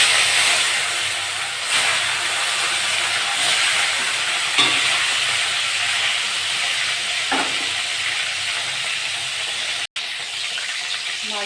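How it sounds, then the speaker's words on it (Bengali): Tilapia fish fry in hot mustard oil in a kadai, giving a continuous close, crackling sizzle and hiss with faint occasional utensil knocks and no speech. "মাছগুলো ভেজে নেব।"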